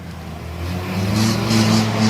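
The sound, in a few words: racing cars' engines on a raceway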